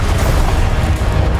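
Confringo blast spell explosion in the video game Hogwarts Legacy, a brief, loud, rumbling boom with dense low-end energy that holds steady and close throughout.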